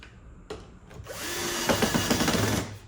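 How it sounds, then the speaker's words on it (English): A power drill driving screws into wood in a workshop, with a click, then a short rising whir held for about a second and a half with stuttering pulses as the screw seats. "Next step, screw them in place."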